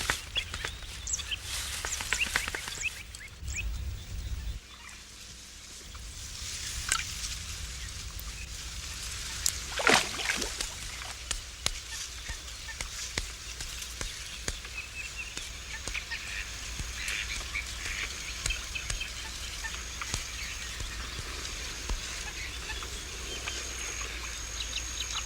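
Geese, ducks and other waterbirds honk and quack across spring marshland in Andalusia, a steady chorus of overlapping calls with a louder burst of honking midway, mixed with continuous low ambient rumble.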